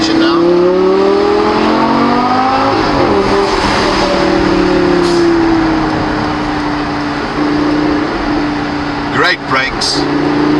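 A Lamborghini supercar driving in sport mode, its engine drone rising and falling through gear changes, loud and close under heavy wind and road noise, with a voice talking over it.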